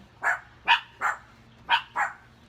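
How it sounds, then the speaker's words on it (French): Two small dogs yapping, five quick sharp barks in an uneven rhythm, close but moderately quiet against a calm background. "Et voilà, c'est Titi et Stella qui jappent"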